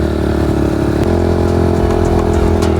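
Trail motorbikes, a Kawasaki KLX 110 and a Suzuki DRZ400, run steadily nearby with a continuous mid-pitched engine drone and slight throttle shifts, loud and alone with no talking.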